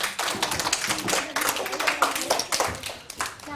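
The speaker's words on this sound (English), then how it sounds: "clapping हो जाए जल्दी से" Schoolchildren in a classroom clap their hands in quick, uneven bursts, a close, lively patter of many small palms with faint voices mixed in.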